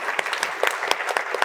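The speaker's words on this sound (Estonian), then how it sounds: "Kiire aplaus!" A workshop audience gives a quick, lively round of applause, with dense, close hand claps rattling for about a second and a half.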